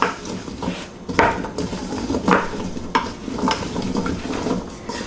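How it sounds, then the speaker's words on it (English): Sweet potato and black bean chili is stirred in a pot with a few scraping spoon strokes against the pot, over a faint sizzle from the cooking vegetables. "We're going to give this a big stir so all of that starts to soften up."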